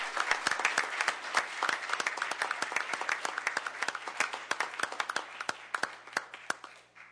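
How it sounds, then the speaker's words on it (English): Applause at a commission meeting: a modest group clapping with distinct, separate hand claps, steady and fairly close, slowly thinning toward the end, with no talking over it. "Will you all please give a round of applause for Mr. Johnny Slayton?"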